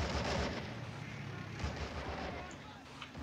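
Rocket artillery firing in a WWII video game, Men of War: Assault Squad 2, a dense rumbling barrage of booms, loud and continuous, with faint talk under it.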